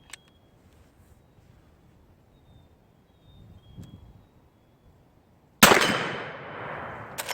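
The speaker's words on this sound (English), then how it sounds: "This is actually the first shot for this rifle." A brand-new Henry X .44 Magnum rifle fires its very first shot: one sharp, loud report breaks a quiet stretch and trails off in a long, fading rumble.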